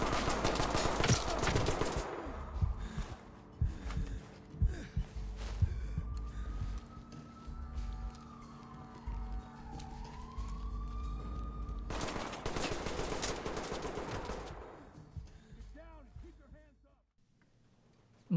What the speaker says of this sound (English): As gunfire begins, so does the percussion.